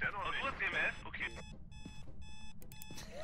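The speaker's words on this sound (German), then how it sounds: "Ach, ist der Wecker." An alarm clock rings inside a haunted house in the game Phasmophobia, a repeating electronic beeping pattern in short bursts, heard at moderate volume after a stretch of overlapping background voices.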